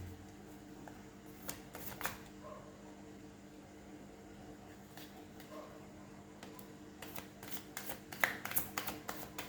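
Tarot cards are shuffled and handled close by, with soft riffling and flicking that builds into quick papery bursts over a quiet room hum.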